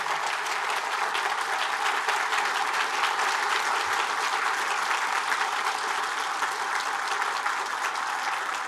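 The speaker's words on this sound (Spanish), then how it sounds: "para la cual pido un fuerte aplauso en este momento" A church congregation applauds at a Mass for the solemnity of Our Lady of Guadalupe, with dense, steady clapping from many hands that stays loud and even throughout, with no voices heard over it.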